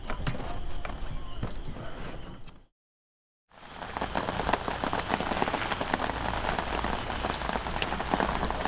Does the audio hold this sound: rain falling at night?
yes